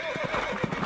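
A short horse neigh from an animal farm sound puzzle, a bright wavering whinny with soft clip-clop thumps beneath it, heard alone at close range.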